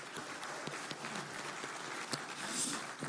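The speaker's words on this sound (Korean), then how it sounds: "박수 한번 칠까요?" A crowd at a political party gathering applauds to welcome newly elected local and regional government leaders. The clapping is soft and distant, a steady dense patter that carries on for a few seconds.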